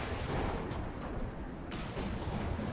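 Artillery barrage striking a Sherman tank in Company of Heroes 2: a dense, noisy wash of distant booms and crackling impacts, fairly faint and continuous over a few seconds.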